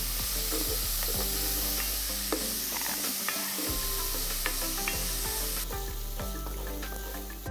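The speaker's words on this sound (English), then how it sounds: "we're gonna let this saute in the bacon grease until they're soft and tender" Diced jalapeño sautés in bacon grease for charro beans, a close, steady sizzle broken by repeated stirring scrapes and light clicks against the pan.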